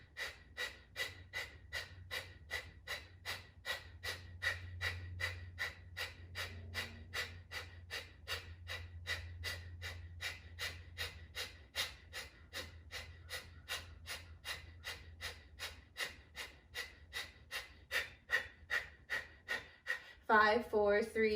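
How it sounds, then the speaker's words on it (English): Kapalabhati breathing: a long run of rapid, forceful nasal exhales in a steady, even rhythm, close and loud, ending with a few deeper breaths. "So Kapalabhati breathing, definitely one of my favorite forms of breath work"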